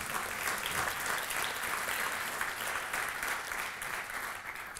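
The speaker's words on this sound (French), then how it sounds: "Là, on peut applaudir parce que là, c'est vraiment cool." Steady audience applause fills a conference talk room at a developer event, dense and even throughout with no voices on top.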